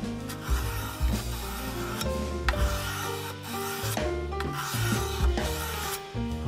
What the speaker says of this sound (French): c'est une sorte de tiré en long que je fais